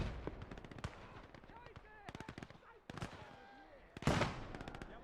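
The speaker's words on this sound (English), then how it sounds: "that PPSH just shreds our infantry here" PPSh submachine gun fire in the Gates of Hell: Ostfront war game comes in rapid crackling bursts, several sharp volleys mixed with distant battlefield shots and some faint voices underneath.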